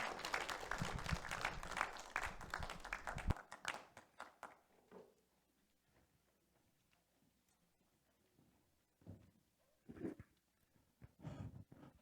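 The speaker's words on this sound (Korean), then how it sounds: "박수 부탁드립니다" Audience applause at a formal panel discussion, a dense burst of many hands clapping loudly for about three seconds, then fading into scattered claps and room noise with a few isolated taps later.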